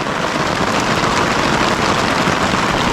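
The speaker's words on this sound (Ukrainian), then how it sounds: "тільки сілися і почався дощ злива" Steady, dense hiss of heavy rain pouring down at a riverside fishing camp on the Horyn River, continuous and loud throughout with no breaks.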